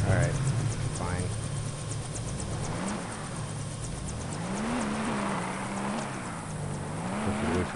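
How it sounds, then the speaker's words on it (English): A helicopter in the video game Lego Jurassic Park drones steadily with a wavering engine pitch, loud and continuous, with speech mixed in underneath. "Get away from the chopper, it's too loud."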